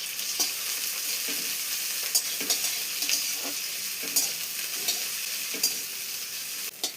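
Onion and chili frying and being stirred in a pan for a tomato chutney, a steady close sizzle with repeated scraping stir strokes throughout and no voices.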